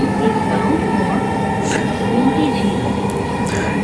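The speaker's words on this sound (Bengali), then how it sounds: "সো ট্রেন ছেড়ে দিচ্ছে এখন ট্রেনের ভেতরে আছি" Inside a Dhaka metro train as it departs, a steady low rumble and hum of the moving carriage fills the few seconds, with a voice talking over it.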